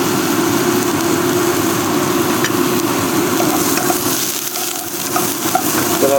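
Shiitake mushrooms and tofu stir-fry in a pan over medium-high heat, giving a loud, steady sizzle throughout with a few faint utensil clicks and no voices.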